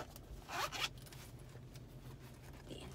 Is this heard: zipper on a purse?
yes